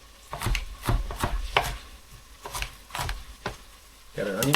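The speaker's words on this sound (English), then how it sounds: "Got our onion cut up." A knife chops an onion on a cutting board in a home kitchen, about a dozen sharp, close knocks in an uneven rhythm, followed by a short burst of sizzling or scraping at the end.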